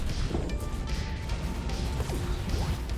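Giga Cannon weapon fire in a video game robot brawl tournament, a dense ongoing barrage of crashing, smashing impacts with whooshing sweeps, loud and continuous with no talk over it.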